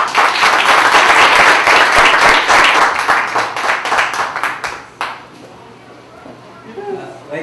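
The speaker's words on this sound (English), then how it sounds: "give a round of applause to our poets" Applause for poets at a poetry reading: a dense, loud crowd of clapping that builds fast, holds for several seconds, then thins to scattered claps as the room quiets.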